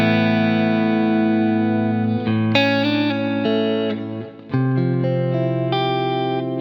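A clean electric guitar tone, a Jewel compressor feeding a Hiwatt amp with delay and reverb, playing sustained ringing notes and chords that shift every second or so, with a brief dip before the final chord, no talking.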